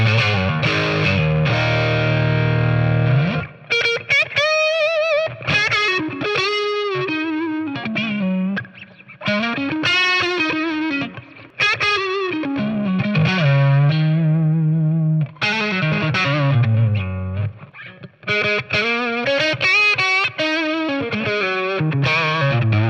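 Electric guitar through a BOSS Katana MK2 amp with a Blues Driver overdrive plays a loose, bluesy run of bends, chords and single notes, gritty and continuous, with brief pauses between phrases.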